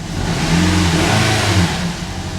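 A 2012 Scion iQ engine running rough just after its fault codes were cleared, loud and close, revving up and holding a throbbing, uneven drone with no talk over it.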